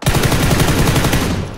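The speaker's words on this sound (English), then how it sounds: "Shooting at you." Automatic gunfire in PlayerUnknown's Battlegrounds: a loud, sustained rapid burst of shots rattling without pause for under two seconds, tailing off slightly at the end.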